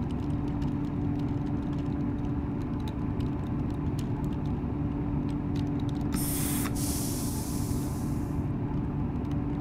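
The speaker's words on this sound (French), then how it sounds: "Donc, desserrage des freins." TGV Duplex air brakes releasing in the Train Simulator 2017 video game, a steady low rumble and hum with a loud burst of hiss that swells and fades near the end.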